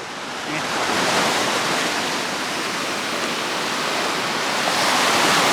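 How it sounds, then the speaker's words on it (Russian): Steady roar of surf washing onto a beach at Ulcinj, Montenegro, broad and continuous, fairly loud with no clear gaps between breaking waves. "Здесь даже волны другие, не такие, как в Будве."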